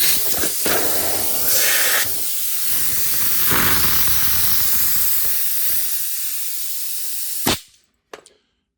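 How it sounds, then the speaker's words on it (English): A loud, continuous hiss of compressed air sprays through a prop spitter for several seconds, then cuts off abruptly, followed by a couple of short sputters. "The air is going to come straight through the spitter."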